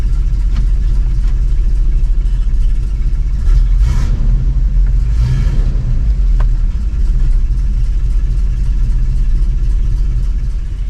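A tow truck on a test run drives down the road, its engine giving a steady low rumble with road and wind noise, heard from inside the cab, continuous and fairly loud with faint passing swells.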